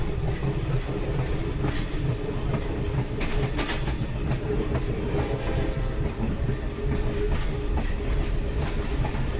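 A diesel train with a TGM8 locomotive rumbles steadily along the rails in eastern Cuba, close and loud, with rhythmic clickety-clack of wheels and a heavy low engine drone throughout.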